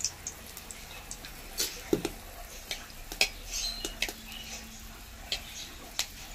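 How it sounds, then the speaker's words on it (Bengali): Black cumin seeds and dried red chillies fry in hot oil with soft, scattered crackles and small ticks, fairly quiet, with a faint utensil tap or two and no talking. "কালো জিরে শুকনো লঙ্কা খুব ভালোভাবে ভাজা হয়ে গেছে।"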